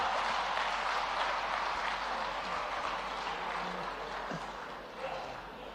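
An audience at a public speech claps continuously, a dense even wash of applause that fades slightly toward the end.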